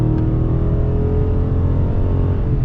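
A Dodge Charger 392 Scat Pack in eco mode, heard as a loud, steady, deep engine roar close by as it accelerates, alone with no talking.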